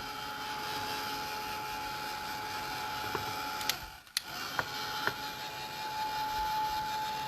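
A heat tool drying paint on a mixed media Halloween decor piece gives a steady, loud blowing whir. It dips briefly midway, then resumes, with a few light clicks and taps over it.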